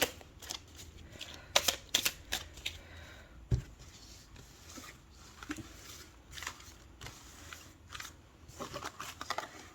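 Oracle cards shuffled and laid out one by one for a tarot-style reading, giving a steady run of soft riffling swishes and papery slaps at close range, with no voices.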